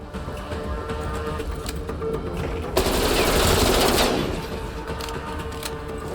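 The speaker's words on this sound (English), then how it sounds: "That's the Type 63. That's based on the SKS. The Chinese SKS." Type 63 rifle, a Chinese SKS-based gun, fires in Black Ops Cold War Zombies: a loud, dense burst of shots lasting just over a second, cutting through a steady game ambience that continues before and after.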